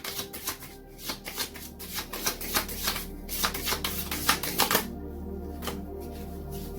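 Oracle of the Radiant Sun cards are shuffled by hand close up in quick, rhythmic bursts of soft riffling flicks, with brief pauses between runs and no talking.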